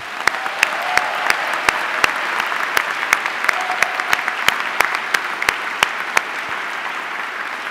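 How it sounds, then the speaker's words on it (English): Students, friends and family applaud at a Yale graduate school diploma ceremony, a sustained wash of clapping with sharper individual claps standing out near the microphone. "I ask you for your recognition through applause from students"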